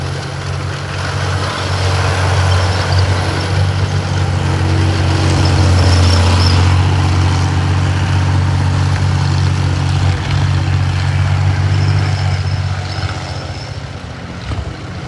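A Panzer III tank fitted with an aeroplane engine rumbles steadily as it drives, a loud, continuous low engine drone with a mechanical clatter, heard alone without speech.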